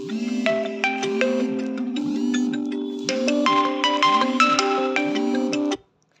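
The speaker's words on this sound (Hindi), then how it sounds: "मेरे को याद नहीं रहा कि अलार्म मैंने लगाया हुआ फ़ोन में" A phone alarm rings out during a Class 7 science lesson on plant nutrition, a loud repeating melodic tone pattern with steady pulses that plays for about six seconds and then stops abruptly, with no talk over it.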